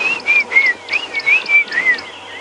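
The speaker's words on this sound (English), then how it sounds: "a slightly louder dawn chorus than yesterday" Birds at Djuma Game Reserve sing at dawn, with a close, clear whistling call repeating in quick rhythmic phrases over a faint background of other birds.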